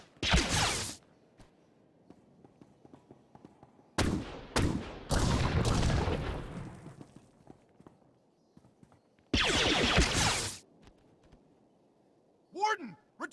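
Gunfire crackles through a Star Wars: The Old Republic video game battle, arriving in three loud, dense bursts of rapid shots separated by quieter gaps.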